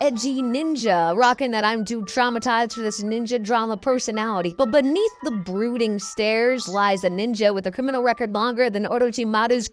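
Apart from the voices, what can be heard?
None of the usual background noises is heard.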